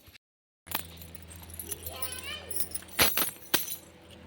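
Keys jangling in a household as a family gets ready to leave: a few bright metallic clinks and rattles, two sharper bursts near the end, heard close over background voices and a child's chatter.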